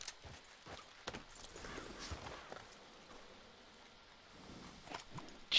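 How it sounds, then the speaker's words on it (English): Horse hooves clip-clopping at a walk in the Red Dead Redemption 2 video game, a steady faint rhythm of soft thuds with low background ambience and no talk. "I want to feed my fucking horse."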